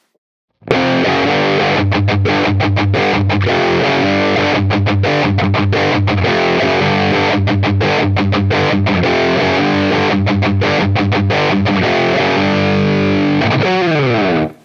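A heavily distorted electric guitar through a Line 6 Helix plays a dense, driving riff of palm-muted chugs and chords, all centered in mono, ending on a ringing chord.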